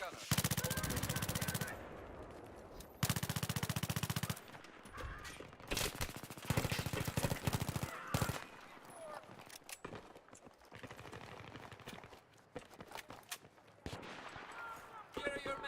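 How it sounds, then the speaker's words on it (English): Bursts of machine gun fire in the PS3 shooter Battlefield 3, loud rapid volleys alternating with scattered single shots and game noise, with voices talking over parts of the firefight. "I spotted an enemy machine gunner."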